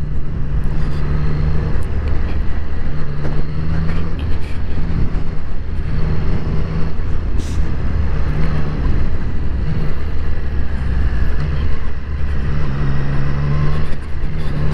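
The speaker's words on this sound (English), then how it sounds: "it's nice to hear that exhaust howl and hear the intake there" A Triumph Street Triple RS motorcycle being ridden on a road, its exhaust howl and air intake roar steady and loud throughout, with a constant low drone and wind rush and no talking.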